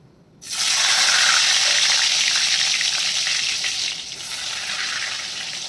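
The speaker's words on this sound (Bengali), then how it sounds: "তেল গরম হয়ে গেছে আলুগুলো ছেড়ে দিই" A sudden loud hiss as potatoes hit hot oil, then a strong steady sizzle that eases slightly toward the end.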